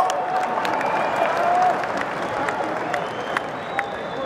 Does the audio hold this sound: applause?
yes